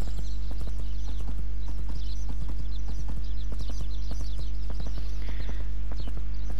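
Horse hooves clip-clop at a steady walking pace in a riding video game, loud and close, over constant low background game sound with no talking.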